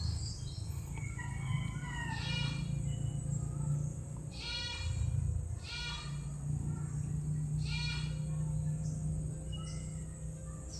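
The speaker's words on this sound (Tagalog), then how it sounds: "dito yung maririnig mo dito, ingay ng ibon, kambing, manok" Outdoor rural ambience with birds chirping, goats bleating and chickens clucking, all at a distance over a steady hum of insects.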